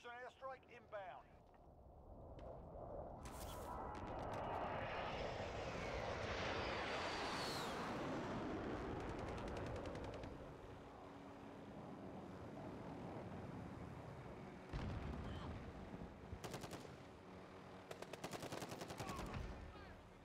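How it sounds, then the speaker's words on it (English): Call of Duty airstrike: a roaring aircraft pass builds and swells, then bursts of rapid machine-gun fire crackle near the end, sustained and dense game battle sound. "Airstrike inbound."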